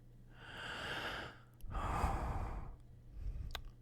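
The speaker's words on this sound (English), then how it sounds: "Sounds of heavy breathing." Heavy, labored breaths close up: two long rasping exhales followed by a shorter one, separated by brief pauses.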